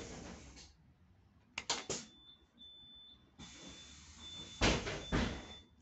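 Pneumatic doors on a Solbus bus, operated from the dashboard, hiss and thump open and closed in short bursts, with quieter pauses and a faint electronic tone between them.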